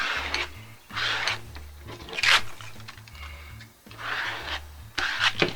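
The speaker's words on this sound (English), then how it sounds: "Take an old credit card and start smoothing it out just like that." An old credit card is scraped across material in bursts of dry, rasping strokes, close up, with short pauses between passes and no talking.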